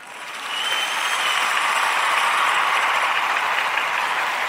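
Sustained crowd applause from an audience, steady and broadband, swelling in during the first second and holding loud and even through the end, with no voices on top.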